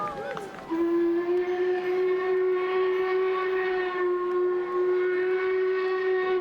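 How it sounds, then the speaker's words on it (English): Jacobite steam train's whistle sounding as it crosses a viaduct: one long, loud sustained harmonic blast held for several seconds, with crowd noise beneath it. "The crowds cheered and the whistle blew."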